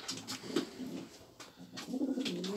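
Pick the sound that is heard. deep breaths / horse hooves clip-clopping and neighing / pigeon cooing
pigeon cooing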